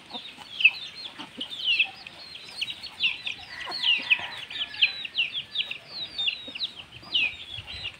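Young native Bisaya chickens cluck and peep on a farm, with many small repeated high calls scattered throughout, moderately close, over quiet background noise.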